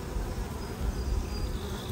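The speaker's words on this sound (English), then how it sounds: "Let me get this worker bee off." Honey bees swarming around an open, non-standard natural hive, a dense continuous buzz of many insects close by, with no talk.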